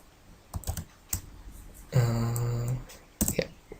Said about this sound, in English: or type no, then press return to get started, hit enter.